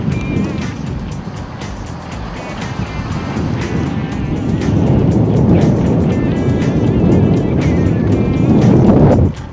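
2007 Tesla Roadster electric sports car driving and accelerating, a loud continuous rush of wind and road noise that builds gradually, with faint voices in the cabin.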